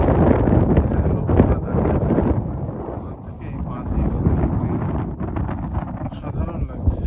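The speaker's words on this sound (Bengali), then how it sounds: "হাওয়া চলছে।" Wind gusting across the rocky desert edge of a canyon in Saudi Arabia, a steady loud rumbling buffet against the microphone, easing slightly midway, with faint voices beneath it.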